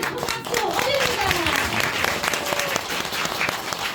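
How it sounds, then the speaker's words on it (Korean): Big applause from a crowd at a Korean lecture gathering, a loud, dense wall of clapping that fills the whole stretch with faint vocal tones mixed in. "여러분 모두 큰 박수 올립니다."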